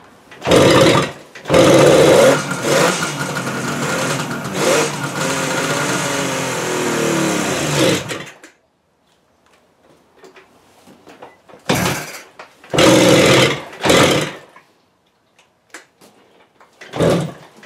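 A 1979 engine, first started after 37 years of sitting, fires in a short burst, then runs loudly for about seven seconds on carb cleaner before cutting out. After a quiet pause, two more brief bursts of running follow, then one short final blip.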